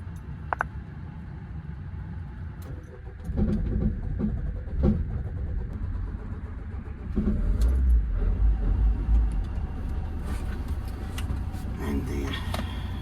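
A troublesome car's engine cranks and catches, then runs roughly in a louder, rumbling surge before dying away again, with people talking nearby throughout.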